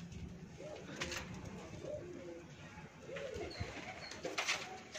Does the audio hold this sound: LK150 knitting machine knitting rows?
no